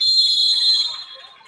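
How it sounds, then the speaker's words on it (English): A referee's whistle at a Division 2 boys' basketball championship game sounds as a single loud, sustained, shrill blast for about a second, then fades out, with no speech over it. "Whistle and a timeout."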